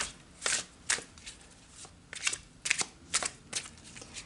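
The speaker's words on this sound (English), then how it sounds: "Now I'm going to be using my favorite deck. It's the Tarot de Marseille by Vincent Pedici." A Tarot de Marseille deck is shuffled by hand in soft, quick riffles and slaps, with a steady rhythm of short bursts close to the listener in a quiet room.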